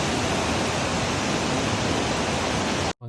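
A waterfall in a forest near Luang Prabang, Laos, giving a steady, dense roar of rushing water that stays even and close before cutting off abruptly at the end.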